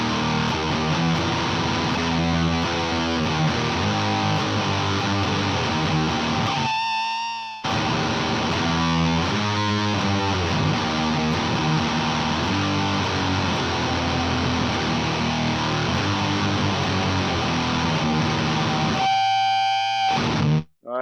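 Electric guitar through an HM-2 distortion pedal plays heavily distorted death metal riffs with a thick, buzzing saw-like tone, loud and continuous, with two brief pauses.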